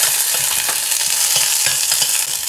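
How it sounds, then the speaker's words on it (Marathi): Green chilli and ginger sizzle loudly in hot oil in a pan with onion, a close, dense frying crackle with soft rhythmic stirring scrapes, no voices. "हिरवी मिरची आणि आलं घालतोय आणि हे थोडं परतून घेऊया."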